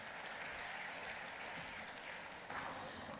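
A large audience at a Madhya Pradesh investment event breaks into steady, dense applause that holds at even strength throughout, heard from a distance with no voices over it.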